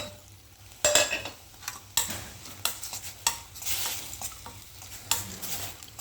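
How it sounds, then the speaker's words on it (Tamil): Food sizzles in a pan with salt and turmeric while a utensil scrapes and stirs it in irregular strokes, close and clear, no talking, while making gooseberry rice. "இதை போட்டு நல்லா எல்லாமே நல்லா கிண்டி விடுவோம்"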